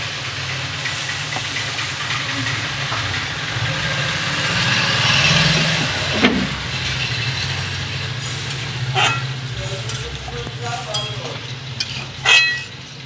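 A Bengali curry of drumstick stems with mustard and poppy seed fries and hisses steadily in a pan, with occasional scraping strokes and a louder knock near the end.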